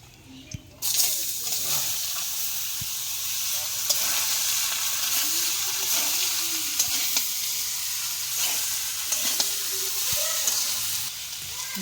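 Tender young bottle gourd frying in hot oil with bay leaf, dried red chilli and cumin, a steady loud sizzle throughout with occasional stirring scrapes and clinks of a spatula against the pan.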